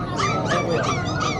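A dog at a pet market in Pasig yips and whimpers in a short run of four high, whiny calls over a steady murmur of market background noise.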